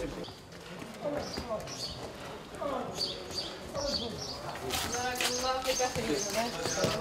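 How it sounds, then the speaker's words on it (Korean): A donkey carrying loads clip-clops through the narrow streets of the Fez medina in Morocco, its hoofbeats repeating steadily amid busy street noise, with people talking and birds chirping nearby. "당나귀가 짐을 싣고 다닌다."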